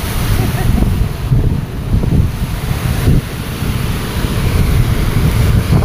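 Rough sea surf churns steadily while strong gusting wind buffets the microphone, a loud, continuous roar of waves and wind with no voices.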